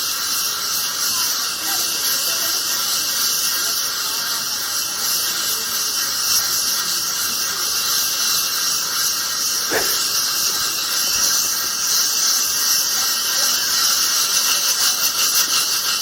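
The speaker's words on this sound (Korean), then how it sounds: "약한 불로 해서 한 10분 정도 볶는다고 생각하시고서 볶아주셔야 돼요" Coffee beans roast by hand in a pan over a low camp-stove flame, with a steady, loud hiss running throughout and one sharp click about two-thirds of the way through.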